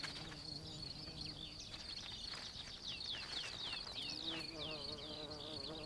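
A mason bee buzzes steadily close by, its drone rising and wavering, with birdsong chirping faintly in the background.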